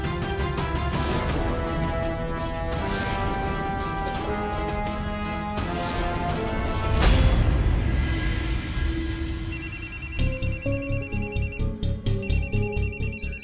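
A phone rings in a Marathi household scene, its electronic ringtone tones repeating clearly over a bed of dramatic background music late in the clip.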